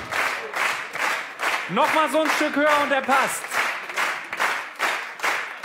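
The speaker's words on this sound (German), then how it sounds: "Nochmal Applaus für unseren Vize-Weltmeister im Slalom." A television sports-studio audience claps in a steady, rhythmic beat throughout the goal-wall shooting game, and someone talks over the applause partway through.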